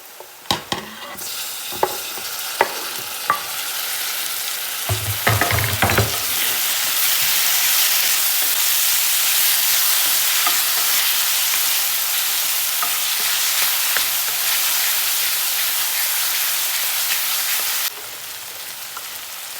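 Tomatoes go into golden brown onions frying for paneer masala, bringing a few sharp clinks and stirs and then a surge into loud continuous sizzling that holds steady to the end.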